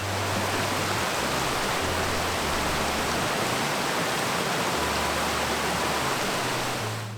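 Continuous broadband rush of a mountain stream cascading over rocks near Sky Pond in Rocky Mountain National Park, loud and steady with no pauses.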